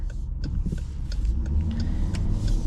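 A naturally aspirated V8 engine in a 2026 Dodge Durango GT idles and revs with a deep, steady rumble close by, smooth and continuous, with a few faint clicks on top.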